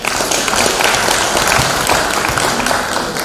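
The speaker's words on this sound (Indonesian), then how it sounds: "Tepuk tangan dulu" Audience applause at an IGTKI-PGRI teachers' association anniversary gathering, a steady, dense wash of many hands clapping throughout, loud and continuous with no break.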